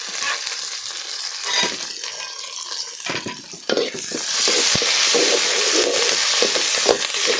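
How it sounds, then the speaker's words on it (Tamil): Onions, green chillies and curry leaves frying in oil on a wood-fired stove, a loud close sizzle that swells after being stirred, with scraping stir strokes and occasional sharp pops. "வெங்காயமும் பச்சை மிளகாவும் போட்டேன் அதுக்கப்புறம் கருவேப்பிலை"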